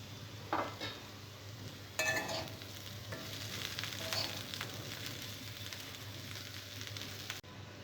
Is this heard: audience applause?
no